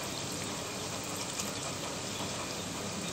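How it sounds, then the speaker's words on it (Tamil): Steady broadband rush of water pouring into a cooking pot, continuous and fairly close, with no speech. "தண்ணி ஊற்றிக்கலாம் தேவைப்பட்ட அளவுக்கு."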